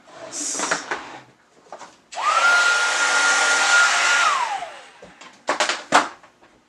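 A heat tool blowing to melt white embossing powder on a craft piece: a steady whirring blower with a faint tone runs for about two seconds, framed by clicks and small handling knocks before and after.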